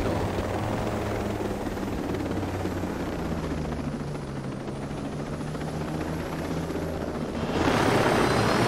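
A military helicopter in the video game Ghost Recon Breakpoint hums with a steady rotor and engine drone, then grows suddenly louder near the end.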